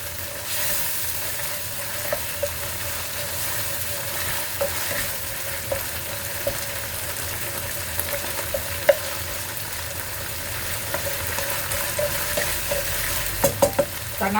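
Tuna and vegetable spaghetti stir-fried in a pan give a continuous close hiss of sizzling oil with scattered light scraping and clinks of a utensil stirring throughout, no talk.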